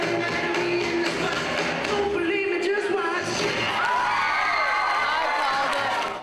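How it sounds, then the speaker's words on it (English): A lively crowd at a cattle show awaiting results cheers and whoops continuously, with scattered shouts and clapping filling the space at a steady, loud level. "A display of lights and an eager crowd awaited to hear the results."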